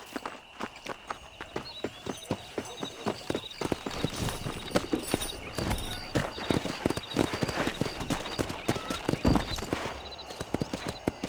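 Horses gallop in the Red Dead Redemption video game, with rapid, continuous hoofbeats close and loud over an outdoor ambience, running the full length without speech.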